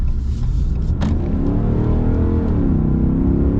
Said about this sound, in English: Love the sound of this engine.